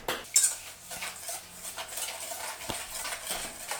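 Spoon scraping and clinking against a pot while stirring a caramel-like mixture for Dutch koek-en-zopie, with a few sharp clanks among steady close stirring sounds.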